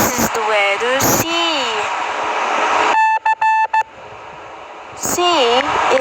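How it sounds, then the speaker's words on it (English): Morse code letter C sent as short electronic tone beeps, a quick series of on-off pulses standing alone between stretches of a voice talking. "Morse code C to D."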